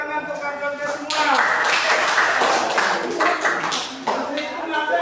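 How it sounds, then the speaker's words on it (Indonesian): A group of children in a classroom religious lesson clap their hands together, a burst of moderately loud, uneven clapping that swells after the first second and fades near the end, with voices under it. "tepuk tangan untuk kakak semua"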